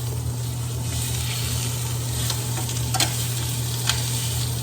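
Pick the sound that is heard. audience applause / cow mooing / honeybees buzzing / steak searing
steak searing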